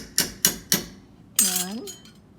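A metal spoon stirring broth in a cooking pot with dissolved bouillon, three sharp clinks against the pot in quick succession, then a short spoken phrase and a softer final clink.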